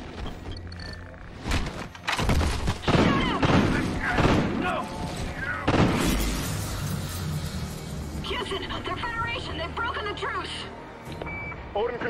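Gunfire in the video game Call of Duty Ghosts, set aboard a space shuttle at Odin Control, crackles in loud bursts amid explosions and shouting voices, with beeping alarms sounding toward the end.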